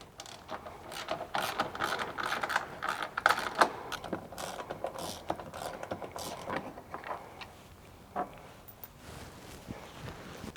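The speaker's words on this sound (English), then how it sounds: "remove the two screws" A hand ratchet clicks rapidly in short bursts while removing screws from the lower net retainer on a Polaris Ranger UTV, quiet and close, with small mechanical clatters between strokes.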